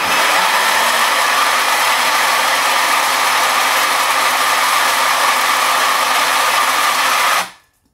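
An Option-O Lagom 01 coffee grinder grinds beans in a loud, steady, broadband whir with a low motor hum that holds constant for about seven seconds, then cuts off abruptly into silence, with no talk.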